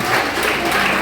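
Church congregation applauding in praise during a worship service, a dense, steady wash of many hands clapping at once, loud and close, filling the full second without pause.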